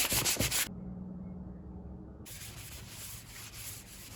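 Soft, steady rubbing of 400 grit sandpaper on a primed model boat deck, a quiet scratchy hiss that stops briefly and then resumes.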